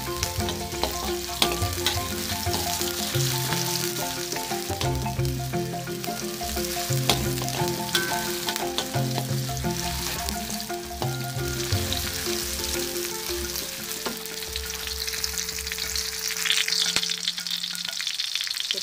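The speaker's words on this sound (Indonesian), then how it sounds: "Kita tumis bawang selir," Shallots and onion sizzle and crackle steadily in a hot pan, with a utensil stirring and scraping now and then, loud and close for the whole stretch, no talking.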